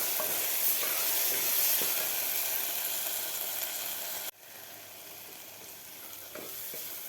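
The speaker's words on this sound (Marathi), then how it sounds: "आपल्याला 1 मिनिटभर परतून घ्यायचे आहेत." Pav bhaji masala spices sauté in a pressure cooker with a soft, steady sizzle and occasional stirring scrapes, close and fairly quiet, briefly dipping midway.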